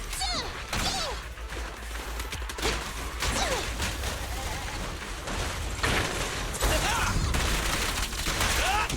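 Gunfire and combat clatter from an enemy fight in the Zenless Zone Zero video game, with bursts of shots, impacts and whooshes layered over game music, moderately loud and continuous.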